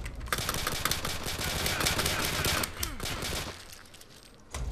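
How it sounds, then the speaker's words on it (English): Rapid pistol fire in the top-down zombie survival video game Zombie Grinder, a dense stream of sharp, quick shots crackling for several seconds with brief lulls, loud and close. "the speed she's firing that bloody pistol"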